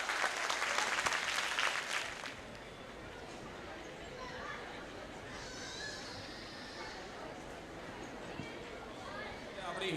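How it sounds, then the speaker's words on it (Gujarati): A gathering crowd at a 2019 Dhoraji community get-together in Surat bursts into loud, dense applause for an honoured guest, the clapping dying away after about two seconds into a low murmur of room noise. "તો ફરી એકવાર જોરદાર તાળીઓથી એમને વધાવજો"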